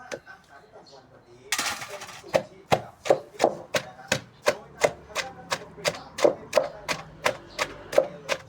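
Pickled bamboo shoots are pounded in a mortar, a steady run of sharp, evenly spaced thuds, close and loud, after a short quiet lead-in and a brief scraping burst.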